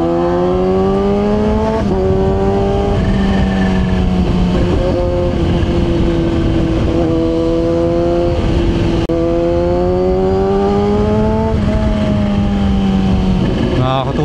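A Kawasaki ZH2 motorcycle engine revs up hard and loud and close, its pitch climbing, dropping sharply with each gear shift, then climbing again. Wind noise sits beneath the engine roar.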